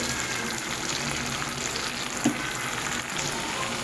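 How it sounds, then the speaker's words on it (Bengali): Pieces of catla fish fry in oil with cumin powder while being stirred, making a dense, continuous sizzle close by, with one soft knock partway through. "সব কিছু একসাথে বেশ ভালোভাবে নাড়িয়ে চাড়িয়ে মিশিয়ে নিই"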